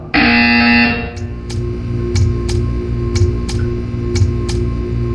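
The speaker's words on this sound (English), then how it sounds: "You will hear a buzzer." A loud harsh buzzer from Portal 2 blares for about a second, then gives way to a ticking, humming electronic backdrop with regular clicks.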